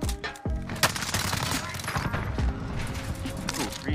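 Rapid gunfire bursts from a multiplayer shooter game match, loud and continuous with dense overlapping shots and booms, mixed with speech and game audio throughout.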